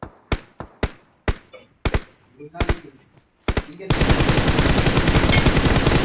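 PUBG Mobile gunfire: several sharp, separate gunshots spaced irregularly, then a loud, continuous automatic burst that runs to the end, close and forceful.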